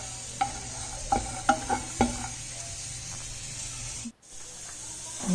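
Dry coconut warmed and stirred in a pan for ellu bella, several sharp scraping clicks of a spoon in the first two seconds over a soft steady hiss, then a brief gap before the stirring resumes.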